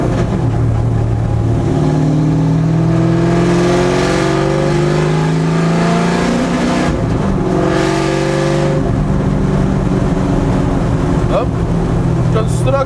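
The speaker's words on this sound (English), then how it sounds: "If you don't care at all about how much noise you're making and who you're angering" A 1989 Ford Mustang Fox body race car on race gas roars close and loud, its engine revving up and down in rising and falling sweeps, heard from inside the cabin while driving, with talk mixed in.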